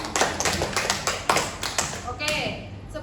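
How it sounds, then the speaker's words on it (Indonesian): A small counseling group clapping hands in a room, a short run of sparse, uneven claps and taps, fairly close, with a voice speaking near the end. "Tepuk tangan buat kalian."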